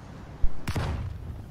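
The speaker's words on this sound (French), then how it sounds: "Je vais jeter une grenade là-dedans, moi" A grenade goes off in a video game: one sharp broadband blast that trails into a short rumbling decay, with no talking over it.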